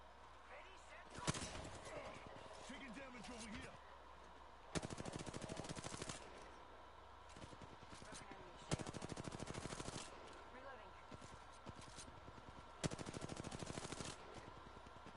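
Gunfire in an online shooter match: four separate bursts of rapid automatic fire, each lasting about a second, spaced a few seconds apart, fairly faint, with players talking throughout.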